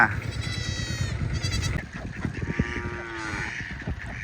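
Livestock on a river char island bleating in several nasal, wavering calls, one after another at close range, over a busy outdoor background.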